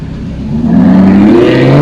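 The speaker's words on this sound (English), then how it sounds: "here comes some Maserati, my neighbour's Maserati" A green Maserati car approaching close by, its engine note rising steadily as it accelerates and draws nearer over a couple of seconds.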